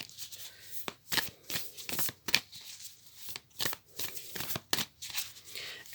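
Work Your Light Oracle cards being shuffled for a tarot reading, a close run of quick papery riffles and slaps in uneven bursts with short pauses between.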